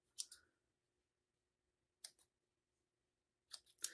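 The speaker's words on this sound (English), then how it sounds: "I will trim off any excess with a different pair of scissors" Scissors trimming excess craft material such as foam tape, three short bursts of snipping and clicking separated by silence, close and quiet.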